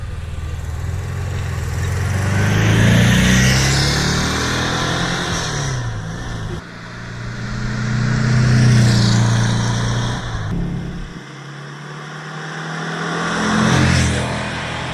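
A Porsche 356A 1300 with its 1.3-liter engine, driven in a Need for Speed racing game, revs loud and close in three rising-and-falling surges, each climbing in pitch before dropping back between gear changes.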